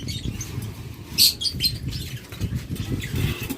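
A pair of violet opaline birds, likely budgerigars kept for sale, flutter their wings in short bursts over a steady low background murmur, with a few faint chirps mixed in.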